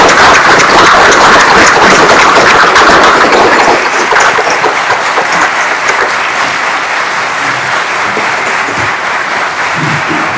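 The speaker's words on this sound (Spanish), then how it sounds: "Aplaudamos este logro." A large crowd applauds newly sworn-in lawyers at a Supreme Court ceremony, dense loud clapping that starts strong and holds steady, easing only slightly toward the end.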